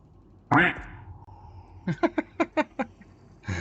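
A single loud, nasal duck-like quack in a space exploration game during a planetary surface scan, followed by a run of six short rhythmic blips and another burst at the end.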